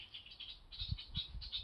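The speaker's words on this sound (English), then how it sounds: "Very irritating bird." Outdoors, a bird repeats a thin, high chirping call several times, faint and at a distance, over low, soft thumps and background noise.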